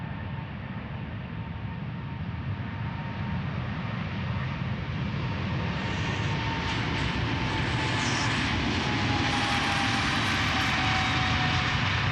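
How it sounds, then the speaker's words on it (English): A KLM Boeing 777-300ER departing Amsterdam Schiphol thunders past close by, a loud, dense, unbroken jet roar with a high whine rising slightly over the span and deep rumbling throughout. "777 time. Going to Sao Paulo, 777-300 ER KLM flight 791."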